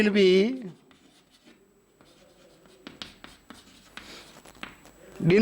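Marker or chalk strokes scratch across a board in short irregular bursts while a teacher writes out a formal invitation reply, with speech briefly at the start and end.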